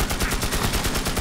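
Rapid gunfire from a gun in the video game Magicka, a loud, steady burst of closely spaced shots filling the moment with no talk.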